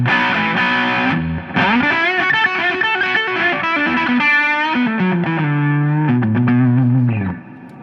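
Electric guitar played through a Rivera Knucklehead amp on channel 3 with boost, heavily distorted sustained chords and riffs, loud and close, ending with a short fade.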